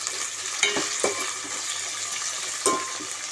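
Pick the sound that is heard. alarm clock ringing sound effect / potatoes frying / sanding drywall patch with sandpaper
potatoes frying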